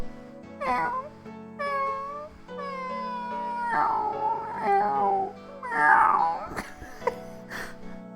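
A person imitates a cat, producing a series of drawn-out, whiny meows that rise and fall, close to the microphone and alone.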